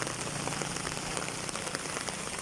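Heavy rain pours down steadily, a dense constant hiss with drops pattering on a surface nearby.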